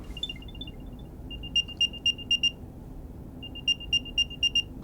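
An Apple AirTag plays its find-me sound: a quick chirpy run of high tones, then two bursts of five bright, evenly spaced beeps, clear against a quiet room background.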